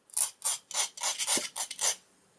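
Hand file rasping across a metal padlock shim in about eight quick, even back-and-forth strokes, close and clear with no talking.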